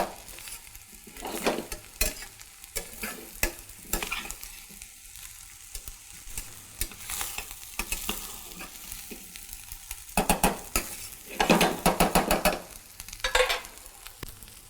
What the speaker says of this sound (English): Combine your rice with the vegetables until it's well mixed.